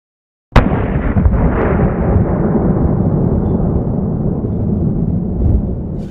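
A single pistol shot through an Arion compact ported suppressor, fired outdoors, a sharp loud crack after a moment of silence, followed by a long rolling echo that slowly fades.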